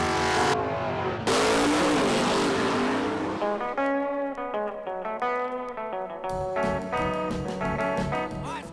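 An old drag car held as a drag car since about 1975, set beside a '68 Camaro and '55 Chevy at a stick-car race, its engine revving loud and close with rising and falling harmonic pitch.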